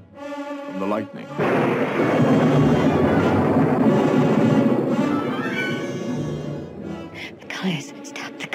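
Thunder rolls through a storm scene in a film, a loud, sustained rumble that swells after a brief quiet start, holds for several seconds, then fades, with voices heard around it.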